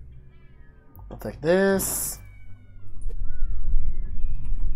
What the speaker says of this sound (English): That's a lot of cats